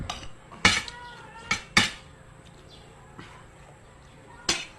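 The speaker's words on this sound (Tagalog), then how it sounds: "kumuha na nga ako ng plato" Plates are taken out and stacked, giving several sharp, close ceramic clinks spaced irregularly, with quiet room tone between them.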